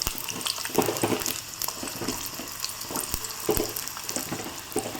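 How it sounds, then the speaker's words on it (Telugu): Sliced onions crackle and sizzle in hot oil for chicken dum biryani, a steady frying hiss with scattered pops and stirring clicks close to the pan, no talking. "హీట్ కాగానే మనం ఆనియన్స్ వేసుకోవాలి"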